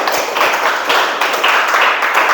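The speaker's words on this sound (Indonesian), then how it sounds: "Kita beri tepuk tangan dulu untuk kita semua ya." A classroom of students claps together, giving a dense, steady patter of many hands that stays loud and even throughout without pause.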